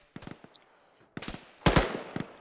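Automatic gunfire from an aircraft gun run in the military game ArmA 3 comes in three separate rattling bursts with short quiet gaps between them. The last burst is the loudest and heaviest.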